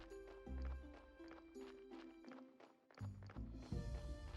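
A donkey's hooves clip-clop in the Graveyard Keeper video game, a few light hollow knocks in an uneven walking rhythm among musical game tones and chimes.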